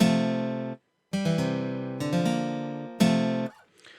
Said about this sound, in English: So it's playing the chord as a whole, and then it's sort of strumming it down a bit